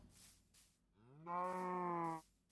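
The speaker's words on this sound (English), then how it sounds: "Little mountain cow." A cow moos in the Minecraft video game on a mountain. After a short rising lead-in, one long, loud, steady low moo holds for about a second, and nothing else sounds around it.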